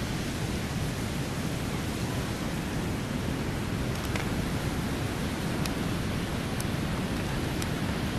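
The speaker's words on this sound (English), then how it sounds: "the sea rolling in is moving constantly" Sea waves roll in steadily against solid rocks outdoors, a continuous broadband wash that stays loud and even throughout with no pauses or talk.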